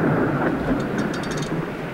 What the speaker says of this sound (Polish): I tak oto wywołuje się burzę.